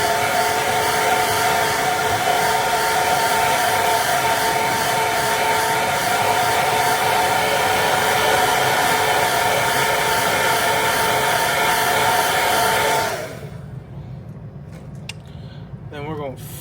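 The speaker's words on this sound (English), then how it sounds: "So we'll hit it with a hair dryer again." A hair dryer drying paint on a fishing lure blows with a loud, steady whirring hum for a long stretch, then cuts off, leaving faint handling sounds.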